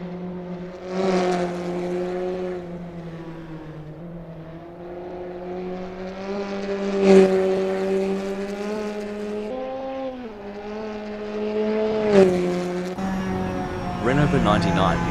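An Opel GT Gr4 2000 TF73 race car in the Assetto Corsa sim snarls through the gears at Prague, its engine note rising and dropping with sharp shifts and brief tire squeal.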